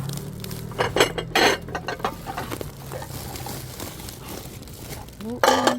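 Glass plates and dishes clinking and knocking together as they are handled during dumpster diving in Korea, with clustered bursts of rattling and crinkling and a voice talking in between.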